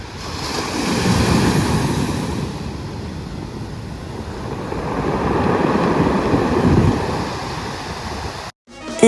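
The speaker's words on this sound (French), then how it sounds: "on a trouvé ça hyper relaxant d'entendre en fait l'eau qui se rétractait de tous les galets" Surf washes up and drains back over the pebble shore at Rivière des Galets, Mauritius, as a steady broad rush that swells twice with wind noise. It ends abruptly.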